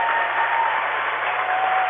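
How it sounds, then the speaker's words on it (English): Continuous crowd applause and cheering fill a college basketball gym during Edinboro University versus Mercyhurst University, a dense, steady roar of clapping and voices with no breaks. "Oh, the crowd is going wild."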